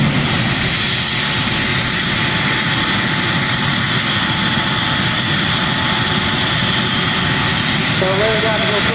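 A pulling tractor fitted with four gas turbine engines gives off a loud, continuous turbine roar and whine at a competition, sustained and close throughout with no pause.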